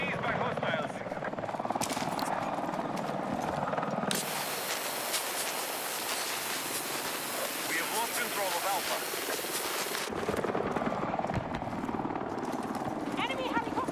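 An enemy Little Bird helicopter roars in a video game, a dense, loud rotor wash that surges in the middle and drops away, while players talk over it and faint gunfire pops now and then.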